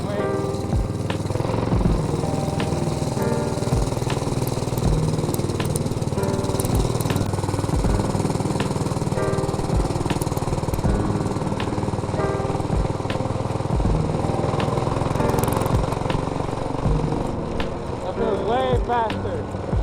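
An MB200 minibike engine with an upgraded clutch and sprockets, a loud steady buzzing drone that stays close and hardly changes level throughout, with a voice speaking faintly under it.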